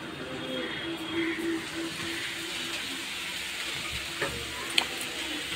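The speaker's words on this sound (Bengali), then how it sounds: "ছোলা কুচি আজকে পেঁয়াজ দিয়ে ভাজা করছি" Chopped chickpeas frying with onion in a pan, a steady soft sizzle with faint clinks of utensils and a low background hum.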